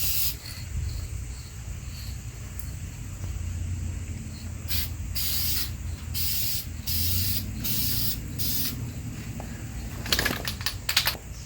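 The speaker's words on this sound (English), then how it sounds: "Got her all cleaned up and ready to rattle can it." Aerosol rattle can spraying paint onto a wet-sanded car fender in repeated short bursts of hiss, each lasting about a second, with a quick flurry of spritzes near the end over a low background hum.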